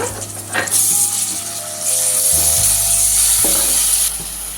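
Onions and ginger paste frying in a pan for green chicken curry give a loud, continuous hiss and sizzle close by, broken by a few clinks and scrapes of stirring.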